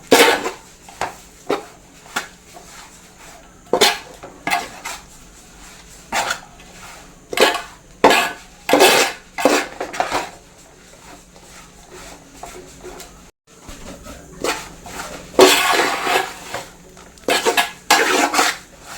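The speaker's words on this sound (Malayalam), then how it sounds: "ഒരു അഞ്ച് സ്പൂൺ മുളക് പൊടി നല്ലപോലെ മിക്സ് ചെയ്തെടുക്കും" A spatula scrapes and clatters against a pan while chili powder is stirred and roasted for a Kerala-style beef pickle, with irregular bursts of metallic scraping and taps, close and fairly loud, with no talking.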